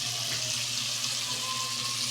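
Boiled water poured into a cooking pot of sinigang with pork makes a steady, close splashing pour that runs unbroken and fairly soft, alone without voices.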